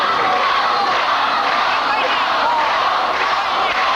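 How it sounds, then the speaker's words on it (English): A boxing crowd roars steadily throughout the Paul Gonzalez vs Jose Torres fight, cheering for Gonzalez in a dense, continuous wash of voices and shouts with no pauses. "Now the crowd is getting behind Gonzalez."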